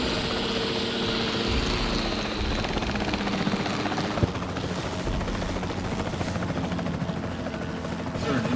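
Capture team helicopter in the Jurassic World Evolution 3 video game, a steady close rotor drone with engine whine that runs throughout, with a brief thump partway through.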